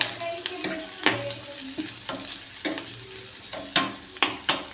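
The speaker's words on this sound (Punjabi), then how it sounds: "ਹੁਣ ਆਪਾਂ ਦਾਲ ਦਾ ਤੜਕਾ ਲਾ ਰਹੇ ਹਾਂ" A moong dal tempering of onion and garlic crackles in hot oil while a spoon stirs the pan. The stirring comes as sharp, irregular scrapes and clinks over a soft background sizzle.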